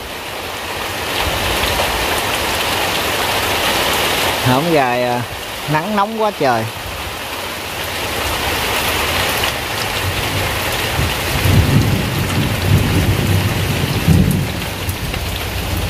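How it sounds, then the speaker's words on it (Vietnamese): Steady heavy summer rain pours throughout with a low rumble of thunder beneath, and a person speaks briefly partway through. "Mùa hè mà có những cơn mưa vậy nè cả nhà"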